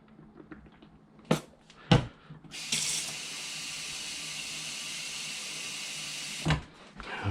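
Water runs from a tap into a spray bottle being refilled, a steady rushing hiss of about four seconds, with a few sharp knocks of handling before it and a clunk as the flow stops.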